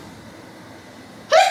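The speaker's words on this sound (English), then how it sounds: "I'm about to sneeze, hold on." After a quiet stretch of faint room noise, a single short, sharp sneeze bursts out at the very end, loud and close.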